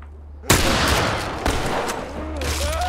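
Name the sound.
gunshots in the video game The Last of Us Part I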